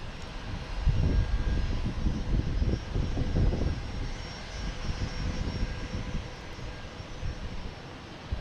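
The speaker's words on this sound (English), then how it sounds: "But first we have the Cape Air landing." A Cape Air airplane landing at Boston Logan Airport, its engine drone rising to a loud rumbling peak before easing into a steady fading roar, heard from a distance with no talk.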